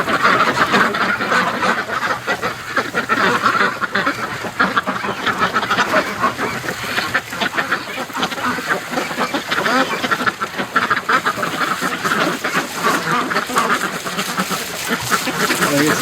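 Breeding ducks in a snowy backyard pen quack and honk continuously in a busy, overlapping chorus at close range, with water splashing from a garden hose in freezing weather and occasional voices.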